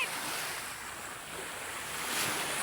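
Ocean waves washing steadily onto a beach in a broad, hissing roar, with some wind noise mixed in and no voices.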